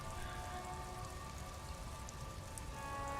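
Rain falling in the Disco Elysium video game, a steady even patter of drops on surfaces, soft and continuous, alone without voices.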